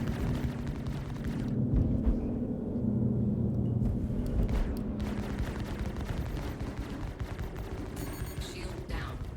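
Spaceship gunfire in the Star Citizen video game sounds as dense, sustained rapid bursts with rumbling impacts running through the whole stretch, loud and continuous.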